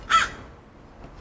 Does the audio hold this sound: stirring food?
no